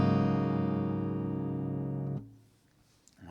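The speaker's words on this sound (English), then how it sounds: "Once it's properly tuned," An open chord rings out on a properly tuned guitar, loud and sustained for about two seconds, then cuts off abruptly into near silence.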